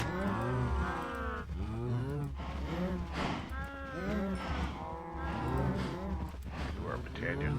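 Cows moo repeatedly in the Minecraft modpack Blightfall, several overlapping game-animal calls layered closely together under quiet background talk, loud and continuous throughout.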